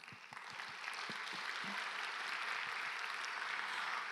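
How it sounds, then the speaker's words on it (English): Attendees at the Nobel Prize Dialogue Seoul 2023 applaud themselves; a few scattered claps quickly swell into steady, moderately distant applause that holds evenly to the end. "why don't we give a big applause to ourselves?"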